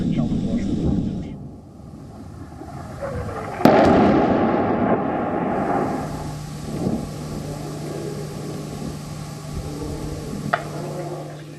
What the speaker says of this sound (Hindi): बम वर्षा लगातार हमास के ठिकानों पर की जा रही है